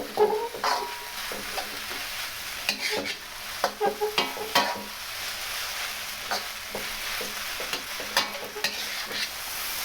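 Beef lo mein noodles stir-fried in a hot pan, a constant sizzle with sharp scraping and tossing clatters in uneven bursts, close up and without speech.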